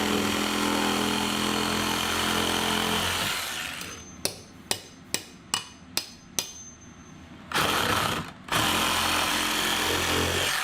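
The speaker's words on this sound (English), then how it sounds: "So we're gonna have to get out the. Roto hammer." A rotary hammer runs loud and continuous, then fires a rhythmic series of about six sharp hammering impacts, followed by another short burst and a final sustained run.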